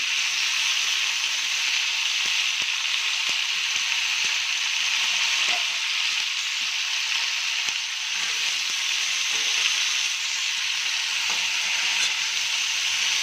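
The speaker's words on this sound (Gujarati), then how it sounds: "મસાલાને આપણે સારી રીતે હલાવી લઈશું." Masala with tomatoes and onions fries on a high flame in butter and oil, making a loud, even hissing sizzle that runs throughout, with faint stirring clicks underneath.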